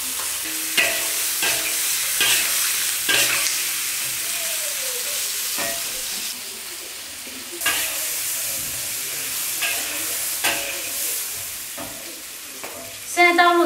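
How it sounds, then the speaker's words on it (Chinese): Shrimp stir-frying in a wok with chili bean paste, a steady close sizzle broken by repeated scraping strokes of the spatula, with a faint sliding tone midway and a louder clattering burst at the end; no one speaks. "然后把这个基围虾 放到锅里面"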